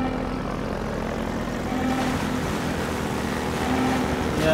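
Helicopter in Half-Life 2 droning steadily outside, a continuous loud engine and rotor rumble with no voices over it.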